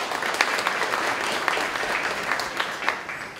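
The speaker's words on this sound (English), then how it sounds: "It's okay, you can applaud." Moderate applause from an audience at a senior center gathering, with individual claps standing out against a steady wash of clapping.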